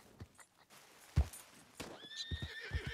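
A horse in Red Dead Redemption 2 whinnies in a rising, strained call near the end, with scattered thudding hoof steps and bumps throughout, fairly close and moderately loud with no talking.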